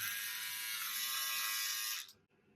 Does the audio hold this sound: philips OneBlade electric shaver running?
yes